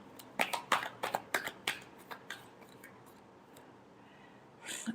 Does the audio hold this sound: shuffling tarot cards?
yes